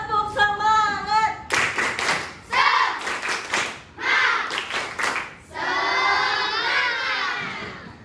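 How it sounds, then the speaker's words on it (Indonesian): A group of children claps a rhythmic spirit clap in a classroom session, bursts of rapid clapping alternating with shouting and cheering voices, loud and close throughout. "Ya, kita tepuk semangat dulu. Tepuk semangat."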